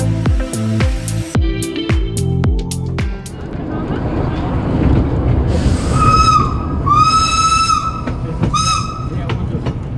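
A narrow gauge train on the Bad Orb–Wächtersbach line rumbles along the rails with rhythmic clatter, joined midway by several sustained horn or whistle tones rising over the steady running noise.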